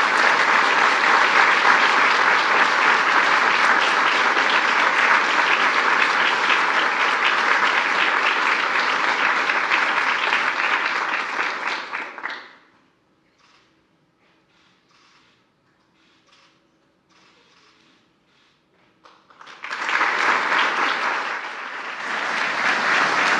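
Loud, sustained applause from a ceremony audience honoring Medal of Valor recipients fills the first twelve seconds, stops abruptly into near silence, then swells again as a fresh round of clapping begins.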